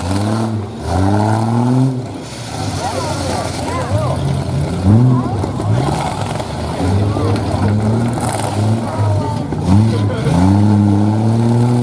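Stock trucks race on a dirt track at Garden City, Minnesota, with engines repeatedly rising and falling in pitch as they accelerate past, loud and continuous throughout the clip.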